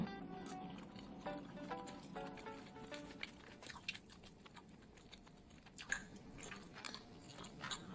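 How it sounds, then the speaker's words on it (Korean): Quiet, close chewing of soy-based vegan bulgogi, with soft irregular wet bites and crunches that go on for several seconds over a hushed room. "그러면 불고기 한번 먹어볼게요."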